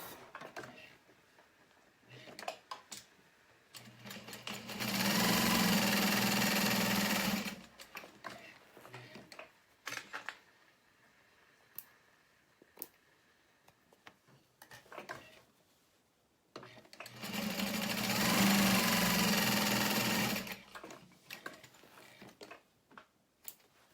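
A sewing machine top-stitching a tote bag runs in two steady whirring bursts of a few seconds each, separated by quiet handling clicks and fabric shuffling, with a voice speaking between.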